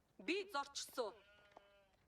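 Several sharp, wavering sheep bleats from the video game Age of Empires 4 come in quick succession, close and clear, then fade to a faint quieter call.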